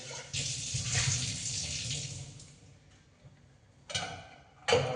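A cooking pot being rinsed under a running tap, water splashing steadily into the pot for a few seconds, then quieter, followed by two short louder bursts of water near the end.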